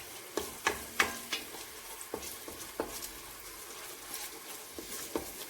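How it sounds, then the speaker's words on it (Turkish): Ingredients being sautéed in a pan for a chickpea dish give a soft, close sizzle, with scattered scrapes and taps of a spoon stirring at irregular moments and no voices. "Biraz kavuracağım böyle."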